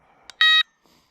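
A fishing bite alarm gives a single short electronic beep, clear and close in a quiet setting, used for carp and catfishing on Lake Moultrie.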